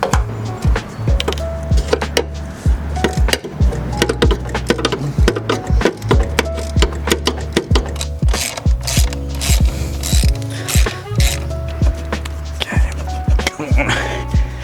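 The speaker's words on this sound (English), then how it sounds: "Now I'm going to take off the turbo clamps." A hand ratchet clicks in quick bursts while loosening the turbo clamps on a car, sharp metallic pawl ticks coming in uneven runs with short pauses and handling clatter, loud and close.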